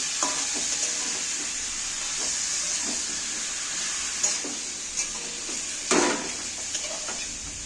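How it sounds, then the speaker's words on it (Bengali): Washed chicken pieces fry in a little oil, with a constant loud sizzle and steam hiss, broken by occasional scraping and stirring knocks against the pan. "ভাজা ভাজা করে নিচ্ছি এই এই অল্প তেলটা দিয়ে"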